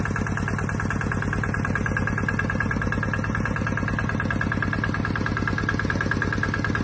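A small generator engine powering a water pump idles nearby, chugging at a steady, even rhythm without pause.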